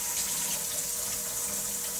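Tap water runs steadily into a sink to thaw two large bags of chicken, a constant close rushing flow with no talk.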